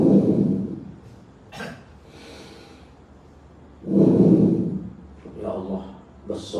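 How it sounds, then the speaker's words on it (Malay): A man demonstrates his own breathing, drawing in and releasing audible breaths close to the microphone: a long breath at the start, a pause, then another deep breath and shorter puffs. "Dengar saya nafas ya."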